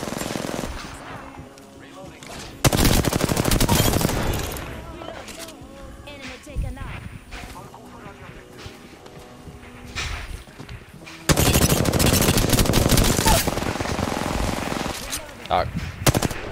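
Rapid video-game gunfire bursts out loudly during a firefight inside a house, with sustained automatic volleys at the start and again near the end, separated by quieter stretches of sporadic shots and effects.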